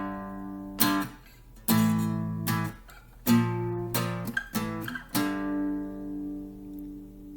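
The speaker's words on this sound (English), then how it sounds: "a power chord is simply a chord that is made with two notes" A two-note power chord on guitar, struck repeatedly in an irregular rhythm with crisp pick attacks and ringing harmonics, the final strum left to sustain and decay, close and clear with no talking.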